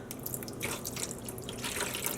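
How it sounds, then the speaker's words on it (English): Vinegar splashed into a hot pot of acid dye with yarn and fluorescent pink dye: a steady, close pouring and splashing of liquid, continuous and fairly bright, with no talk. "a healthy, huge splash of vinegar"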